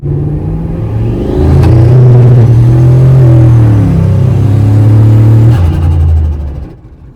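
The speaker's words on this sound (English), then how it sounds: "we can't finish a driving segment without some turbo noises, so here we go" Turbocharged 2003 Ford F150 pickup under load while driving, a loud close engine drone rising as it accelerates, holding a strong steady roar, then easing off and fading at the end, with no talking.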